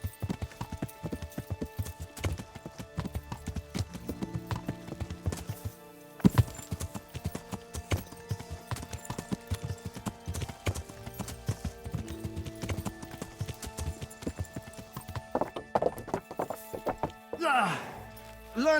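Rhythmic clip-clop of horse hooves trotting in the video game Kingdom Come: Deliverance, with some clanking and music-like tones behind, and a voice near the end.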